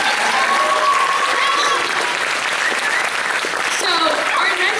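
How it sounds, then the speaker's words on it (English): Audience applause for Riley at a high school wind ensemble spring concert: a full hall clapping loudly and continuously, with some cheering voices mixed in throughout. "can we please get another round of applause for Riley?"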